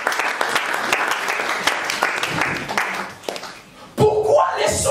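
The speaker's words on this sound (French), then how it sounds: "Acclamez pour la gloire de l'Éternel." Congregation clapping loudly in a dense, continuous burst at an evangelical church seminar, the applause carrying for about four seconds before voices and a louder swell of sound break in near the end.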